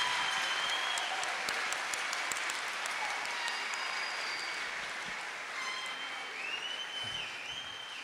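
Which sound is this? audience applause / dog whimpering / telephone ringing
audience applause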